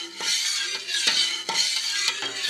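Spoon stirring Nab Vam tapioca dessert in a pot over high heat on a stovetop, a steady rhythmic scraping with regular strokes about every half second, close and clear with no talk.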